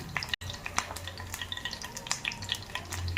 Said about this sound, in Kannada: ಈಗ ಒಗ್ಗರಣೆ ಫ್ರೈ ಆಗಿದೆ